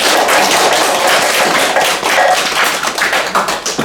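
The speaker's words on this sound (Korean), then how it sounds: "최병문 선배님 건강을 더 유지하시도록 박수 한번 치십시오." Audience at a Buddhist alumni association dharma gathering clapping loudly and steadily, a dense continuous wash of many hands close by that thins toward the end.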